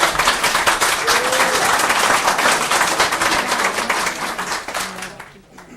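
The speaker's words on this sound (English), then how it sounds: "let's hold the applause, please." Audience members at a planning and zoning commission meeting burst into applause, a dense steady clatter of many hands that carries on for several seconds, then tapers off as it ends.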